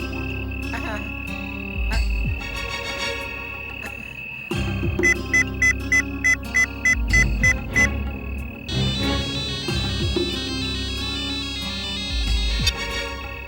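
An outgoing phone call to a bungalow owner rings in a Hindi-dubbed Hollywood movie, with a regular series of electronic ring pulses over a loud, busy music score and effects.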